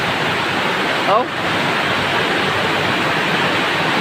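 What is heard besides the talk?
heavy rain and rushing floodwater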